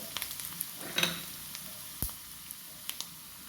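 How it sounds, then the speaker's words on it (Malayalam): Ginger and garlic frying slowly on low heat give a quiet, faint sizzle, broken by light ticks and a couple of soft spoon knocks, with no voices. "ശരിക്ക് ചെറുതീയിലിട്ട് മൂത്താലാണ് കറക്റ്റ് ഇഞ്ചിയുടെയും വെളുത്തുള്ളിയുടെയും ഒക്കെ ഒരു ഫ്ലേവർ ഇറങ്ങുള്ളൂ"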